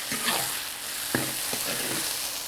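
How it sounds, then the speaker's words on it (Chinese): Onion, ginger and garlic are stir-fried in hot oil with dried chili and Sichuan peppercorns in a wok, giving a steady loud sizzle broken by spatula scrapes and a couple of sharp clanks, close up with no voices. "继续给它炒香。"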